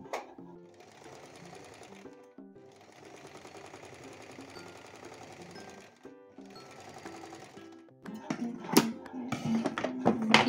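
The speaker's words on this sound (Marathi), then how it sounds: "दुसऱ्या साइडलाही आपल्याला अगदी काठावरती अशी टीप टाकून घ्यायची आहे." Sewing machine stitching lace along the edge of a blouse sleeve, running in three steady bursts separated by short pauses, followed by handling clatter and faint talk near the end.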